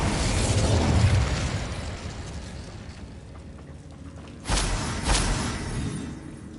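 Bombarda blasting spell in Hogwarts Legacy, a loud roaring explosion with a long rumbling decay, followed by two sharper bursts crackling a few seconds later.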